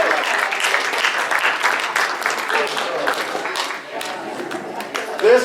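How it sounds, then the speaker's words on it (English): A banquet audience at a chamber of commerce recognition event breaks into dense applause filling the room, with scattered voices mixed in, before the clapping thins out at the end. "Big round of applause for everybody."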